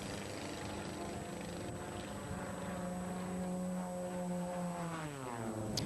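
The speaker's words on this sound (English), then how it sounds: "Very unique all-composite pusher aircraft with the engine in the rear." Small all-composite pusher racing aircraft with its engine in the rear, at an IF1 and Formula V air race in Albuquerque, New Mexico, droning steadily as it passes, its engine pitch sliding downward near the end.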